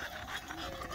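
Mastiff dogs panting on a farm while sheep are moved along a fenced field, a steady, quick breathy rhythm close by that runs the whole second without any talk.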